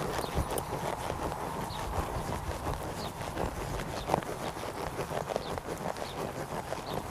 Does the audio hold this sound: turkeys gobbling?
no